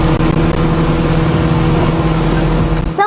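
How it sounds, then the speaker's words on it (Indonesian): A speedboat engine roars loudly and steadily throughout, a dense continuous drone close by with no pauses and no talk over it. "Deru suara mesin speedboat terdengar cukup kencang."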